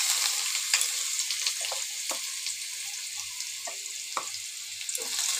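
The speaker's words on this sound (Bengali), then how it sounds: "গাজর দিয়ে আমি ভালো করে ভেজে নেব গাজরটাকে" Chopped carrots frying in hot oil in a home kitchen pan, a steady close sizzle with a few sharp pops and crackles and faint scraping stirs, no talking.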